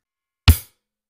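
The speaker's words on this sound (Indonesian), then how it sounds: "Kemudian ketuk secara bersamaan close hi-hat dan kick." A single closed hi-hat and kick drum hit together on the Real Drum app, a short punchy thud with a crisp tick on top, ringing out briefly before silence.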